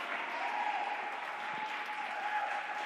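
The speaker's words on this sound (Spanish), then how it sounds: "Dale un aplauso a papá." A congregation applauding in a church, with dense continuous clapping held at an even level throughout and no voice over it.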